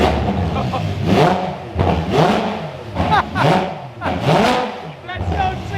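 A Ferrari 812 Superfast V12 engine revs loudly several times in a row, each surge rising and dropping back, with voices talking over it.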